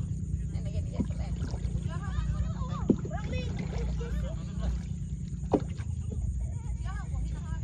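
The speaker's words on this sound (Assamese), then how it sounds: "আমি দামতে নাও এনেকে দিয়ে চলাই" A small boat is poled through the Dipor Beel wetland, with soft water splashes from the pole every couple of seconds over a steady low murmur, while birds chirp and twitter nearby throughout.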